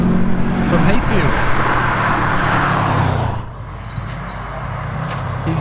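Hillclimb race car number 77 at the Legend of the Lakes Hillclimb, engine roaring loudly and steadily as it climbs the course, fading somewhat after three seconds, with a commentator's voice running over it.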